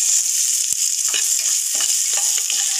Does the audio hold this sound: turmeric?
yes